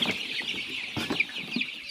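Several young colour-bred broiler chicks cluck and peep close by, in short overlapping calls with a constant bright chirping over soft scratchy movement.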